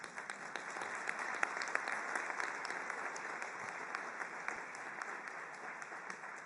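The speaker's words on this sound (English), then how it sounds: "I think we should give them an applause." A large audience at a UN farewell event applauds the interpreters, a steady, even wash of clapping that holds throughout at a moderate distance.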